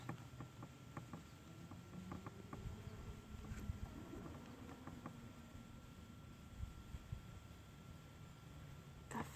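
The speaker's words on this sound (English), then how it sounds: "The flies have just been horrible this year. So if you hear any buzzing, that's what it is." Faint, steady insect buzzing hums in the background, with flies droning on and off over quiet ambient noise and occasional soft clicks.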